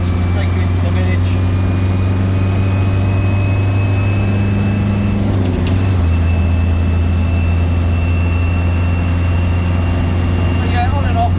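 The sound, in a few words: Land Rover 110 engine while driving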